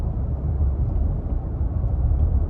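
Inside the cabin of a 2022 Nissan Frontier Pro-4X pickup while driving, a steady low tire roar and road rumble dominate, with the engine barely present and no voices.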